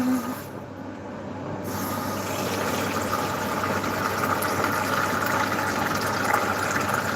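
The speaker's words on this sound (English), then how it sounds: "Let's fill it up with cold water." Cold tap water pours into a pet water fountain as a steady hissing, splashing rush that starts after a brief pause and builds slightly in strength. The flow continues close by without voices.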